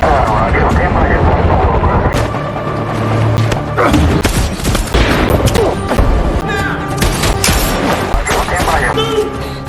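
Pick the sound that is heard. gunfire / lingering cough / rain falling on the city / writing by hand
gunfire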